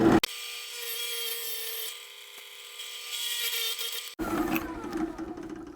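A drill with a 1 inch bit bores into a wooden woodworking project, a steady, close whirring grind lasting about four seconds before cutting off abruptly into scattered rattling and knocking.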